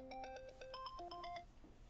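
A phone ringtone signals an incoming call, a short melodic electronic tune of rising and falling notes repeating in quick steps, moderately loud and clear with no voices over it.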